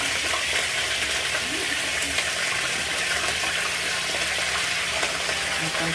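Bone-in pork pieces fry in a pan at home with a steady, dense sizzle and crackle, close and continuous throughout, with faint stirring noises and no clear talk.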